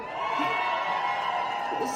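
A large crowd at a World Cup 2026 countdown event cheers and whoops in a sustained, loud roar with high shouts mixed in.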